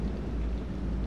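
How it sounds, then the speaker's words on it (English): A thunderstorm in the game Man of Medan, heard as a steady, dense low rumble of wind and rain with no distinct thunderclap and no talking. "Find out how long the storm is gonna last."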